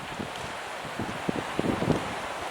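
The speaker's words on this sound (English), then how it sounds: "The wind's coming that way towards us and we got this bank in." Wind gusting at a beach campsite beside a bank at Aberthaw Nature Reserve near sunset, a soft steady rush with faint rustling and a few light knocks close to the microphone.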